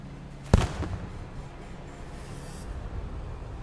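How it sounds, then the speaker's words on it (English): A grenade in the video game Dagger Directive goes off in a single sharp blast early on, then a faint spray of shrapnel hiss trails away over quiet background. "look at the grenade and the way that it shoots out the shrapnel"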